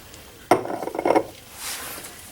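A pH probe set into a glass beaker in a lab test gives a sharp close knock and a short burst of clinking and rattling, then a quieter hiss.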